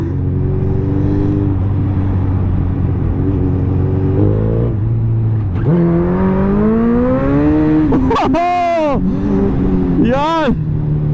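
A superbike's engine revs hard, rising and falling in pitch with several sharp throttle blips and high-pitched surges toward the end. It is loud and close and heard alone.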